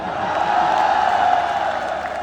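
A crowd at a Dahi Handi event applauds the Jai Jawan Govinda Pathak after its ten-tier human pyramid salute, a steady wash of clapping and cheering throughout with a loud sustained tone above it.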